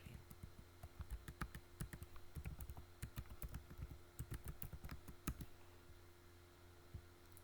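Rapid, irregular keystrokes on a computer keyboard while typing up a binary tree coding problem, steady clicky taps at close range with no voices.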